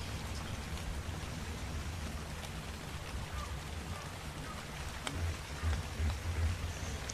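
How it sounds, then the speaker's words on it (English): Steady rain in the survival game Ark Survival Evolved, a continuous broadband hiss of falling water with a low rumble underneath, fairly quiet and unbroken, with no talking. "This rain is a bitch."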